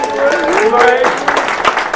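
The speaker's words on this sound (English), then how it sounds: "Give Lorraine a big round of applause." An audience applauds at a tech business keynote in Henderson, a dense, steady wash of clapping through the whole two seconds, with voices and cheers mixed in.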